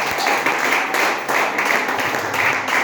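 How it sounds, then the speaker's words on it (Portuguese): A congregation at an evening church service claps together, loud and sustained, with rhythmic waves of hand claps swelling every half second or so. "Dá palmas para Ele nessa noite"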